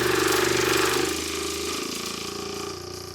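A B2 Audio Rampage8 subwoofer driven with a 20 hertz tone gives a loud, steady low rumble with a buzzing, rattling pulse, easing slightly partway through and then holding on.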